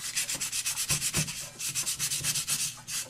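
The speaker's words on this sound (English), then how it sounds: "I think I'll go ahead and work on this a little bit with this sandpaper" Sandpaper scrubs rust off a circular saw blade in a workshop, a quick, even series of close, bright rasping strokes about five or six per second, with a few duller knocks in between.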